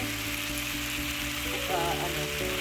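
Chicken wings sizzling steadily as they fry in a pan for adobo chicken, a constant close crackle with no breaks.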